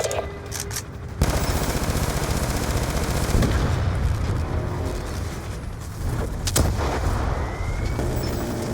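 Sustained automatic gunfire and explosions in the video game Call of Duty: Black Ops 2, a loud, continuous rattle of rapid shots that kicks in after a brief opening and keeps going with occasional heavier blasts.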